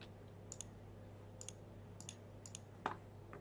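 A computer mouse button is clicked several times in paired, crisp, quiet clicks at steady intervals, close up with no talking.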